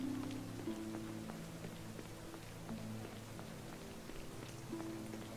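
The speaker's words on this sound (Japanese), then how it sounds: "しかし相変わらず雨降ってんね、この街。" Rain falls on a town at night in the video game Baldur's Gate: Dark Alliance as a faint, steady hiss with scattered drip ticks under soft, sustained musical tones.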